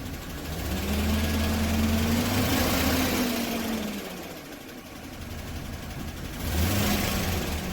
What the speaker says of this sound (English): Let me bring it around so I can give it some throttle and see if it climbs any.